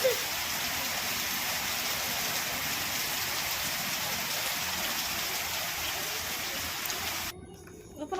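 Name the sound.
heavy rain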